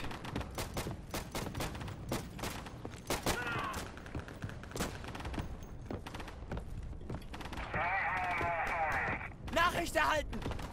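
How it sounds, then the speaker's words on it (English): Carpet barrage gunfire in the World War II shooter Day of Infamy: rapid bursts of rifle and machine-gun fire and distant explosions cracking repeatedly over ten seconds, with a harsher sustained rumble near the end. "I got a carpet barrage over there."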